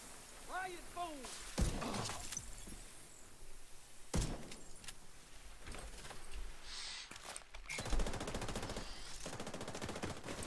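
Gunfire in The Division 2 video game, with scattered short bursts and sharp cracks alongside turret fire, followed by a dense rattling volley near the end, all mixed with game effects at a fairly low level.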